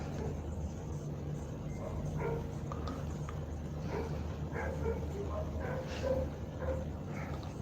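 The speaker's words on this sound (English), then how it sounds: "The dog is also barking in our life." Heard in the background of a physics lesson, a dog barks and yips several times, fairly distant and irregular, over a steady noisy room hum.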